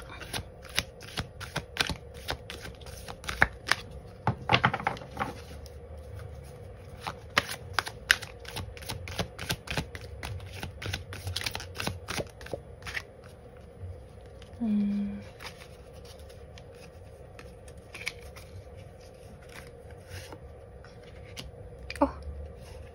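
Tarot cards being shuffled and drawn during a reading, a steady run of soft, quick papery taps and flicks, fairly close and quiet, with a few sharper snaps and a brief murmur partway through.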